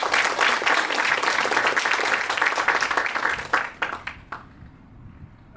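A forum audience applauds to welcome the chairman of the New York council of the Democratic Peaceful Unification Advisory Council, a dense wash of clapping for about four seconds that thins out and fades near the end.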